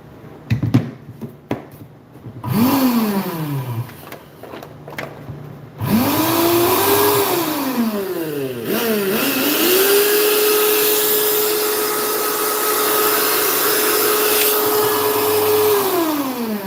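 A faulty electric mixer grinder motor starts with brief bursts, then whirs loudly and steadily, its pitch rising and falling before holding a sustained high hum.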